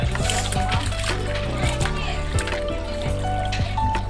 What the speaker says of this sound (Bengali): আমি এইভাবে সবগুলো মাছ ধুয়ে নিলাম